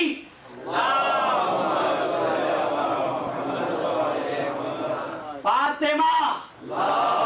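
A majlis audience recites durood (salawat) aloud in unison, a loud sustained crowd chant that swells and holds, breaks briefly, then resumes with sharper voiced bursts near the end.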